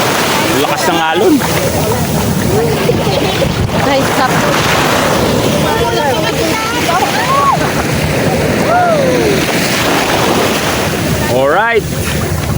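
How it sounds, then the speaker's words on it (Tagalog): Strong sea waves heard from a boat on a summer outing, a steady loud rush of surf and water with heavy wind buffeting the microphone, while people talk and call out over it. "lakas ng alon."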